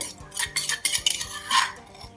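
A metal spoon clinks and scrapes around inside a pot of boiling water in quick, uneven strokes as curry paste is stirred in, with no voices.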